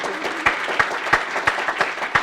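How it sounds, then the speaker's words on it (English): An audience at a history conference gives a short round of applause, a steady patter of clapping with regular sharper claps, moderately loud and without voices over it. "do we want to conclude with a hearty round of applause for your answers?"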